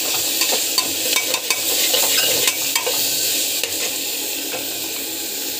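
Sprouts masala sautéing in a pan, a steady close sizzle with scraping spatula strokes and occasional sharper clicks, continuous and fairly loud with no voices.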